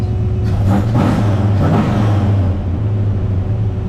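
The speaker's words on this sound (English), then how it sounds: "Let's cold start it. Check out this throttle response." A 1987 Chevrolet Suburban engine fitted with ACES Killshot EFI cold-starts and is blipped on the throttle, loud close revs swelling twice over a steady rumbling idle before easing back down.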